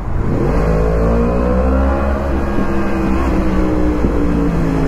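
A Yamaha MT10 engine in second gear revs loud and close, a sustained rising-then-falling roar with a steady low rumble beneath, with no talking.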